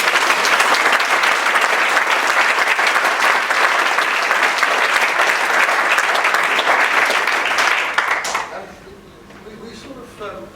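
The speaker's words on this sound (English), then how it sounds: "A round of applause." An audience applauds at a closing address, dense clapping sustained for about eight seconds before abruptly thinning out and fading into quiet room noise.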